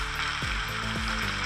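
Powdered spices (salt and red chili powder) frying in an oily pan for a fish curry, giving a steady, close sizzle that runs unbroken and fairly loud throughout.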